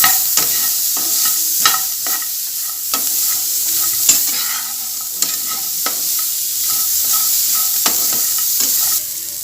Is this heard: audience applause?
no